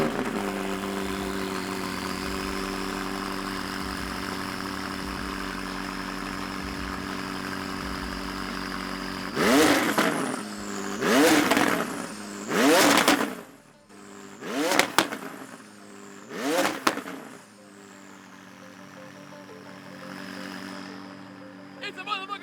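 A flame-shooting car engine idles with a steady tonal hum, then roars through five loud, separate revs before settling back to idle.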